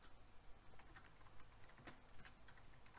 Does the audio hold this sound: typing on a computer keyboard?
yes